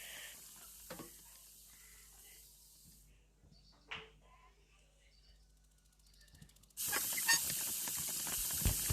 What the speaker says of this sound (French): L'eau coule, justement